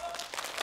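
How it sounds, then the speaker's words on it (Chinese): A short burst of audience clapping from neighbours voting by applause in a comedy sketch, brief and moderately loud with no voices over it. "请鼓掌"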